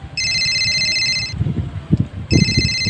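A telephone rings with an incoming call, a repeating electronic ringtone in two bursts separated by a pause, while low background noise and rustling continue underneath.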